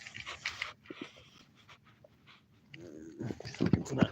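A dog pants in quick, soft, close bursts, fading briefly and then returning louder, with low, quiet sounds underneath.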